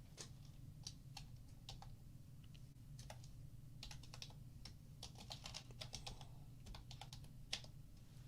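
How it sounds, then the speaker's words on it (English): Quick bursts of keystrokes on a computer keyboard, irregular clusters of clicks over a low steady hum, close but quiet with no talking. "I got to type something in right quick."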